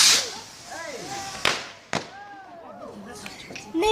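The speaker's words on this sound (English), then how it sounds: "Those ones are fireworks." Fireworks bursting on bonfire night outdoors, with sharp distant bangs and crackling pops, two louder reports standing out over whistling streaks and a steady crowd murmur, while people talk nearby.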